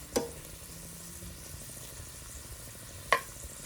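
Cabbage fries in a big skillet with a soft, low sizzle, broken by two sharp utensil clinks against the pan, one near the start and one near the end.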